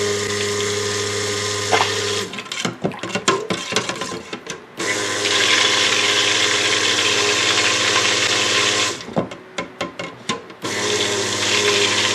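A steady stick blender whir runs close up, broken twice by stretches of sloshing, gurgling lye water being poured down the blender's side into soap oils.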